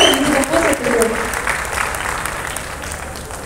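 Audience applause welcomes composer Deva onto the stage at a film trailer launch event: a burst of clapping that gradually fades, with some speech mixed in.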